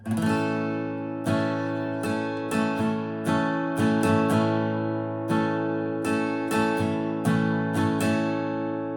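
An acoustic guitar is strummed in an easy pattern of full chords with quick down-up strokes at the chord changes. Up close it rings with sustained tones and crisp strum attacks, and no one speaks.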